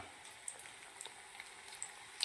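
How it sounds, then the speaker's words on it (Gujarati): Onion bhajiya fritters sizzle in oil over a low gas flame, a faint steady crackle with small scattered pops and no voices. "આ જે મૂકી દેવાના ડુંગળીના કુરકુરા ભજીયા"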